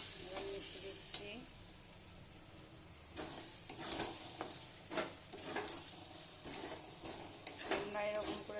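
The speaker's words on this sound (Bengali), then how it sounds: "এবার মিশিয়ে দিচ্ছি।" Egg being stirred into tarka in a frying pan: a steady oily sizzle with repeated scraping and tapping strokes of a spoon against the pan, close and moderately loud.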